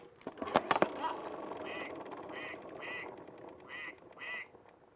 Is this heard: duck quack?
yes